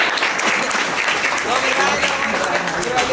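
An audience at a school welcome program for class 11 students in Nepal claps steadily to welcome the chairperson to the stage, a dense even patter of applause, moderately loud and continuous.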